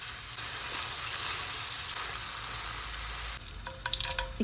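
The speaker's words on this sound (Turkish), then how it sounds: "Üzerine bir yemek kaşığı salça ilave edip bir süre daha kavuralım" Tomato paste sautéing in oil in a pan, with a steady close sizzle and crackle throughout and a few scraping stirs near the end.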